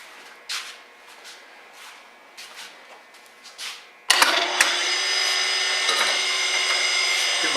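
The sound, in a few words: surface grinder powered on and running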